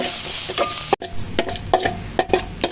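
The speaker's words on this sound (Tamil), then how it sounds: "வெங்காயம் நல்லா பொன்னிறம் ஆயிடுச்சு." Onions sizzle and fry in a pan until golden, a bright steady crackle broken by repeated scraping stirs from a spatula, close up with no talking.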